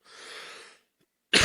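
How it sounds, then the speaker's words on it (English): A single harsh, breathy cough, close and fairly loud, followed by a brief silence and the start of another cough. "I've got that cough going on in the back of my throat"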